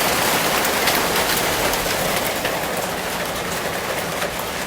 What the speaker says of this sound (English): It looks like a little bit of hail.